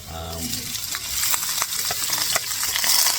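Garlic frying in a pan for chicken sisig, a steady close sizzle that swells after the first half second, with scattered utensil scrapes and clicks over it.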